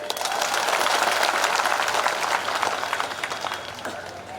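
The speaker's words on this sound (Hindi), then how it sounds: "एक तालियां सभी के लिए बजती है जी" Applause from a large seated audience at a Vishva Hindu Parishad Kanwar yatra gathering, dense, fairly loud clapping that swells at first and then slowly thins out.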